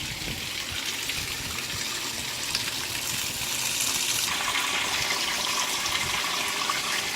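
Water running steadily from a tap into a container being filled for an iron, a continuous close gushing that rises slightly in pitch as it fills.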